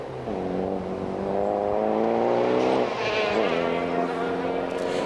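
A Cosworth rally car from the 1989 RAC National Rally Championship drives hard over rough bumps, its engine a steady, buzzing harmonic drone that rises in pitch, drops briefly, then climbs again, with faint talk underneath.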